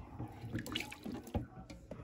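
Hot pasta water pours and drains through a dish strainer into a kitchen sink, with splashing, trickling and dripping at close range, fairly soft and uneven.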